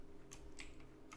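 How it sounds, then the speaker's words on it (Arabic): Computer keyboard typing during a Sky Wars gaming session, heard as a few sharp, separate key clicks spaced irregularly over steady low room hum, fairly close and moderately quiet. "والله ما ادري هل صوت كيبورد قوي ولا لا"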